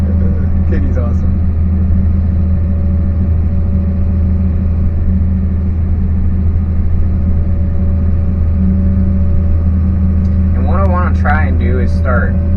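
A dump truck drives nearby with a steady, deep engine rumble that holds throughout, and a voice briefly cuts in near the end.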